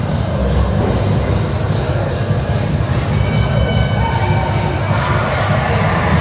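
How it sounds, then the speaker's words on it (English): A youth sports team's pregame cheer rises as a loud, continuous roar of shouting voices and crowd noise, sustained without a break throughout. "So just as we mentioned, Maddie Haran leading the pregame cheer."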